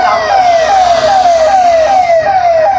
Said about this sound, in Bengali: অ্যাম্বুলেন্স যাচ্ছে মা ফ্লাইওভার দিয়ে।